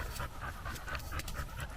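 A dog pants hard and fast, a steady rhythmic huffing up close that runs without a break and with nobody talking.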